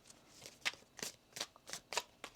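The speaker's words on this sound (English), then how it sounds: "One more shuffle now." Tarot cards being shuffled by hand, with about seven crisp riffling bursts in an uneven rhythm. The sound is close and soft, with no talking.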